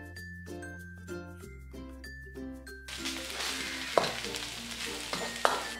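Masala with coriander leaves sizzles and is stirred in a pan, a soft crackle with light clinks of the spoon that follows a stretch of tonal music.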